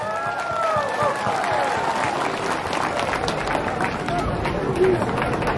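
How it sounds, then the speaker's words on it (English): Dense applause from a large crowd at a political speech in Meghalaya, steady and sustained throughout, with cheering and scattered shouts mixed into the clapping. "Let us give him a round of applause."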